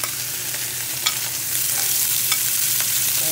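Cajun shrimp fry in a hot skillet, giving a steady, close sizzle with a few sharp pops and crackles and a hiss that grows slightly louder partway through, with no voices.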